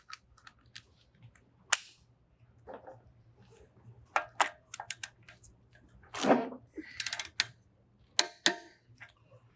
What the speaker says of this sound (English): take our big 1/2-inch drive torque wrench and torque this down to 200 Newton meters